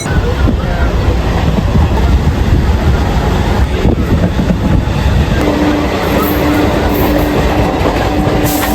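A local train bound for Howrah near Kolkata runs along the rails with a loud, continuous rumble and rhythmic clickety-clack of wheels over joints, heard from close by aboard or beside the carriages.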